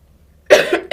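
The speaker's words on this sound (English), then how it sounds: "Excuse me when I cough." Two sharp, close coughs, one right after the other, loud against near silence.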